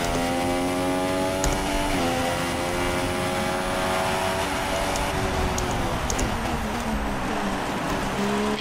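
A Formula 1 car engine in the racing game F1 2016 howls continuously at high revs during a race in Bahrain, a loud, steady whine with slight pitch shifts as gears change.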